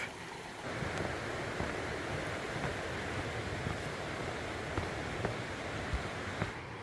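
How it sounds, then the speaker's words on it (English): Steady, broadband rush of water tumbling over boulders in a rocky creek on the Appalachian Trail, a continuous close wash with no talk. "Another creek crossing, but there's so many boulders here it's impossible not to rock hop."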